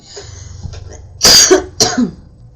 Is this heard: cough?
yes